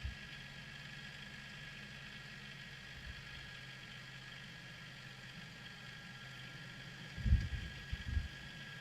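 A Ram 1500 pickup truck stuck in snow idles with a steady low engine drone while reversing, then gives two brief louder revs near the end.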